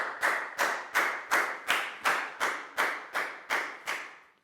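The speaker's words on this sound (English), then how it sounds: "High five and a big round of applause for Lackow" A primary school class claps for a pupil in a maths lesson, about ten loud, evenly timed claps in a steady rhythm, close and sharp, with no talking.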